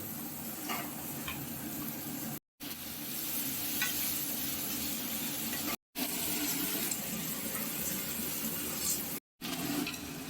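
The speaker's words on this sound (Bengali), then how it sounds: "বাঁধাকপি বাটা বাটা যেটা মিক্সিতে করা হয়েছিল বয়েল করে এবার কড়াইতে দিয়ে দেওয়া" Boiled, blended cabbage-leaf paste hits a hot wok and sizzles loudly and steadily while a spoon stirs and scrapes through it, with a few brief dropouts in the sound.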